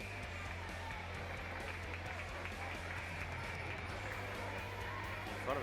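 A crowd at a New Bremen versus Marion Local high school volleyball match applauds and cheers in a steady, dense wash that runs throughout, with voices mixed in.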